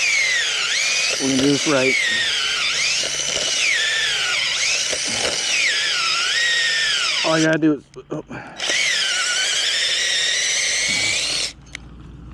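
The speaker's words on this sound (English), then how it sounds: "all I gotta do is drill another hole." A power drill whines loudly almost continuously while boring a pilot hole during setup of an 80-meter dipole antenna, with brief pauses and someone talking over it.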